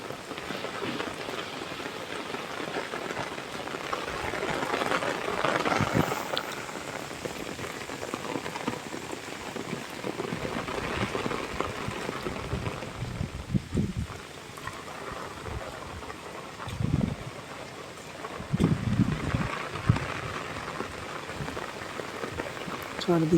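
Steady rain pours over a quiet village with rough, muddy roads, a dense, even patter on surfaces close by, rising into a few heavier gusts and drips with no clear talk.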